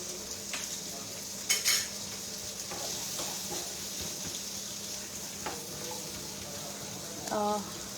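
Salted sliced onions fry in a pan with a steady, low sizzle, broken by a few sharp clinks and scrapes of stirring, close and moderately quiet.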